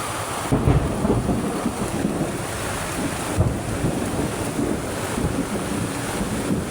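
Heavy rain pours steadily in a rural Philippine area during a thunderstorm, a dense continuous roar with low rumbles of thunder and wind buffeting the microphone, no talking.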